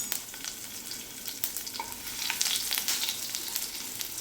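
Cumin seeds and finely chopped garlic cloves fry in oil over low heat as a tempering for vagharelu dahi, giving a soft, even sizzle with scattered crackles and pops, close by and without voices.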